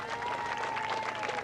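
Crowd applauding the overall winner at a 1984 AMCA motorcycle race meeting, a steady wash of clapping with a faint tone running through.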